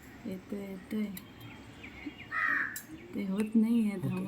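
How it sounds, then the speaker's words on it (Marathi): Crow cawing outdoors on a breezy day, several harsh calls in bursts mixed with other birds, someone talking over the calls throughout. "आलाय आलाय, कावळा आलाय"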